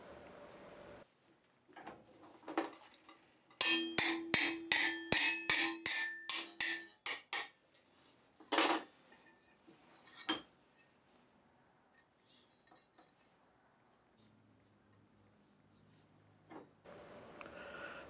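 A cross peen hammer strikes cold sheet metal clamped in a vise to form a square corner: a quick run of sharp, ringing metallic blows, then a few isolated hits, close in a quiet blacksmith shop.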